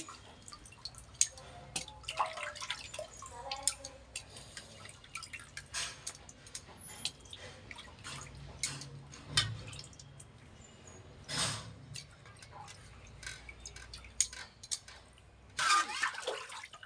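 Fish being rinsed by hand in water, with irregular drips, splashes and sloshing at close range, quiet overall with a few louder splashes, no talking.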